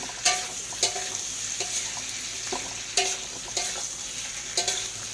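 Potatoes and eggplant fry together in oil in a home village kitchen, a continuous close sizzle broken by a few distinct spatula stirs and scrapes, no talking.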